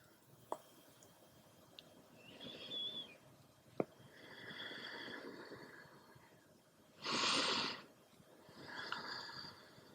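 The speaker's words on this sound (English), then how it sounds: "deep exhales" Slow, deep breaths during a post-run stretching session, soft airy exhales rising and fading in several long drawn-out waves, faint and close, with occasional small clicks between them.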